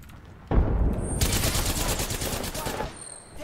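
Automatic weapons fire in the battle royale game Apex Legends, a loud, close burst of rapid shots that starts abruptly, holds for a couple of seconds, then stops.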